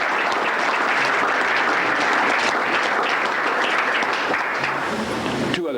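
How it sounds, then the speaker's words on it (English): A historical society audience gives a sustained round of applause, dense and even clapping filling the room for several seconds. "I would like to hear a round of applause for her"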